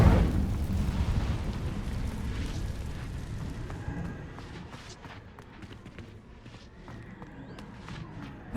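Incendio fire spell being cast in the video game Hogwarts Legacy: a loud whooshing burst of flame at the start that fades into crackling and rumble, followed by scattered clicks and footsteps.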